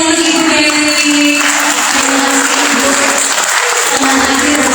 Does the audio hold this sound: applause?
yes